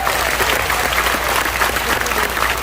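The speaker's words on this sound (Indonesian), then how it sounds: "Tepuk tangan untuk NO Taiwan." Audience at a religious gathering in Changhua, Taiwan, bursts into dense, loud applause that holds steady throughout, a thick continuous wash of many hands clapping.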